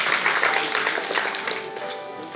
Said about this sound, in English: Give our chief guest a big round of applause again